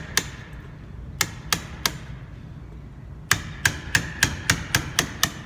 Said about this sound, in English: and the hammer, and just tap it down.